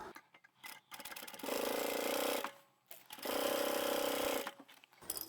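A sewing machine stitches the seam of a tablet pouch in two sustained whirring runs of about a second each, separated by short pauses with quieter handling clicks, close and fairly loud.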